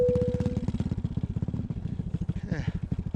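An EOS Quattro 4-stroke paramotor engine runs at takeoff with a loud, close, pulsing low chug and rapid rhythmic firing, and a voice speaks briefly over it.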